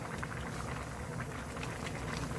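Perilla seed and dried radish greens soup bubbling steadily in a pot, a dense continuous simmering hiss with soft popping, close and even throughout, no voices.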